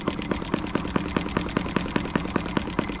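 A Model M12B engine idles at its lowest speed with an even, steady chuffing beat, close and continuous, each firing pulse distinct.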